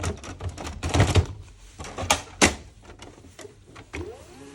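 Clicks, whirs and clunks of a Samsung ML1660 laser printer mechanism running, irregular mechanical bursts at close range with a short rising motor whine near the end.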